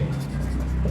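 Handwriting on paper while working a trigonometry problem, a short close scratchy pen-stroke sound over a low background hum.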